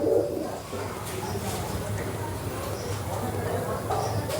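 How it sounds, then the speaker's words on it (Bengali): Ablak pigeons cooing in a loft, soft repeated low coos layered over one another, with people talking in the background. "এই একটা আবলুক পায়রা বাচ্চা হয়েছে, বাচ্চা বসে আছে।"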